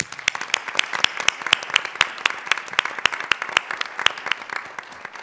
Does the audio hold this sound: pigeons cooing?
no